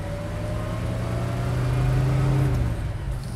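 A 1968 Shelby GT500-KR Mustang or 1967 Chevelle SS 396 V8 idles steadily through a stainless steel exhaust, giving a sharp, hollow, low drone that holds a constant loud rumble throughout without any talk.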